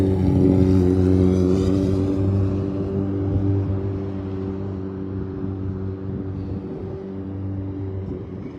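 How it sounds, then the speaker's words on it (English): A motorcycle engine drones past with a steady harmonic hum, loud at first and gradually fading as it moves away, with a low rumble underneath. "Oh, it's this motorcycle."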